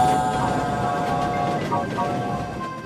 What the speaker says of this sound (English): The train stops at the station.